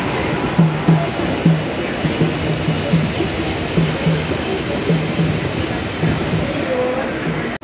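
A train on the Howrah South section railway runs with a rhythmic clatter of wheels over rail joints and a continuous rushing rumble, heard close and steady from start to finish.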